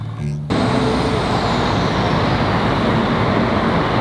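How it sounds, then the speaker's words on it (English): Trucks pass close to a parked RV: a short quieter opening gives way to a loud, sustained roar of heavy traffic, with a faint high whine sliding slowly downward as a vehicle goes by. "All that noise that we woke up to is this. This is all these trucks."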